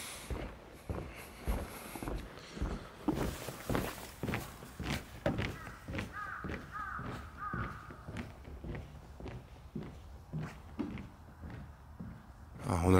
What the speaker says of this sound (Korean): 이 데크가 모든 사이트와 연결이 되어 있다 보니까 야간 시간대에 이제 걸어 다니거나 하면 이 발소리가 들릴 것 같아서